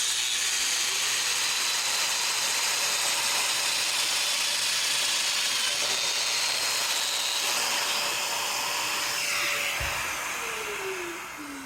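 A Domino floating tenon joiner cuts a mortise in wood with a dust extractor vacuum running on automatic, giving a steady loud whirring drone that holds for the whole cut and winds down at the end.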